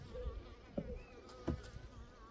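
Bees buzzing around open frames during an inspection of merged queenless hives, a low, steady and fairly faint hum with a couple of soft knocks of handled frames.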